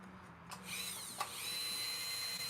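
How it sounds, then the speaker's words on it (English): A Dremel rotary tool, run with a foot pedal, cuts a notch with its bit. It gives a quiet, steady high motor whine that settles in after a couple of brief scraping bursts. "So I'm using this bit on my Dremel, and then I've got my foot pedal down there."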